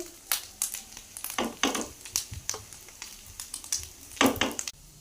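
Grated coconut cooking with sugar in a pan for fried narkeli, giving a crackling, scraping sizzle with repeated bursts of stirring and a few louder rasps near the end, no talk.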